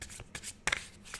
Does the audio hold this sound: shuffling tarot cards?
yes